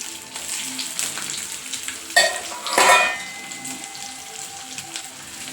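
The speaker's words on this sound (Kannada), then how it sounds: "ಈರುಳ್ಳಿನ ಚೆನ್ನಾಗಿ ಫ್ರೈ ಮಾಡ್ಕೊಳ್ಳಿ" Onions with curry leaves and green chilies sizzle steadily in a hot pan, broken by a couple of sharp scrapes and clinks of a spoon stirring against metal.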